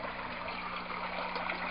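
Water streams down through packed polyfill in an aquaponics system, raining into the surface below as a steady, continuous trickling splash with no pauses.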